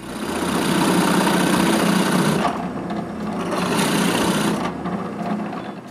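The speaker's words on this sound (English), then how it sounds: "I drill 2 holes, one on each side of the cutter," Drill boring two holes into a wooden dowel for a beading tool, a steady grinding, rasping whir that runs continuously at close range, with a brief dip in intensity midway.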